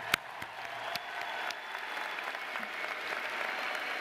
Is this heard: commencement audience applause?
yes